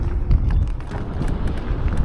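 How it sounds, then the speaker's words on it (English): Strong outdoor wind buffeting a microphone beside a Junling JL86 Pro electric scooter on a muddy street test, a loud, low, rumbling roar with irregular gusty bursts throughout. "It is very windy out today, so forgive me."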